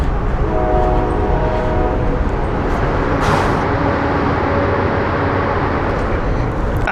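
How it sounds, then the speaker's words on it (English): A train rumbles steadily past overhead while heard from beneath a bridge in Baltimore City, loud and continuous, with a sustained horn blast early on and a brief high screech partway through. "There's a train."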